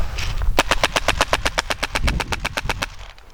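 An Ares Stoner LMG airsoft rifle running a custom Wolverine system fires a rapid, even burst of about twenty shots over two seconds. The sharp mechanical cracks sound close and loud and end abruptly.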